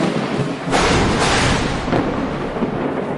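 A loud crack of thunder for lightning in the sky, set in a Mahabharata mythological drama, bursts in about a second in and rolls on as a broad, close rumble to the end.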